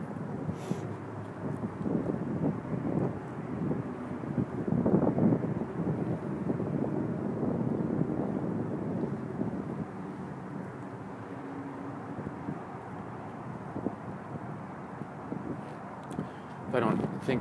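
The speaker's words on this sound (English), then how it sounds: "keep in mind the wind is blowing." Outdoor wind buffets the microphone in low, rumbling gusts, strongest in the first half, under someone talking throughout.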